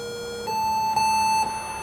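A Sinclair ZX Spectrum +2 computer gives a steady electronic tone, first a lower pitch and then a higher one, lasting about one and a half seconds in total, clear and close with no talking.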